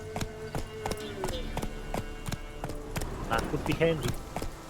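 Geralt's horse Roach trotting in The Witcher 3, a steady rhythmic clip-clop of hooves close by, with someone speaking briefly over it.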